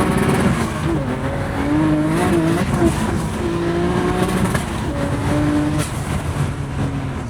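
A custom-built motorcycle engine revs loud and close, its droning tone climbing and wavering through repeated throttle blips over a steady mechanical roar.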